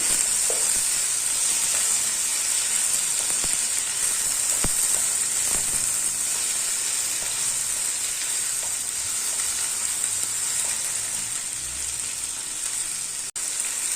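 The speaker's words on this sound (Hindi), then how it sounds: "अब इन भिंडियों को हमने कर लेना है फ्राई" Cut okra (bhindi) sizzles in hot oil in a pan, a steady bright crackle with occasional stirring clicks and spatula knocks, close and continuous with no voices.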